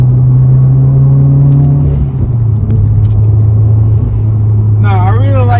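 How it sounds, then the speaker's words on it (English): A Subaru WRX engine droning loud and steady from inside the cabin while driving, the pitch dropping as revs fall, followed near the end by a brief warbling burst that fits a turbo blow-off valve, with talk over it. "That blow off sound sounds good."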